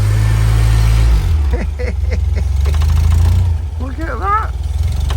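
Small car engine, a Mini with a recently fixed sticking throttle, idling and revving loudly up close, with someone speaking briefly over the engine noise.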